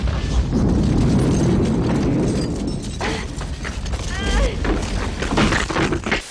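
A deep, rumbling explosion in the mountains rolls on with crumbling and rattling debris, fading into scattered clatter and faint voices.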